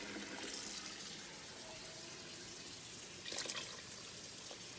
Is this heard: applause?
no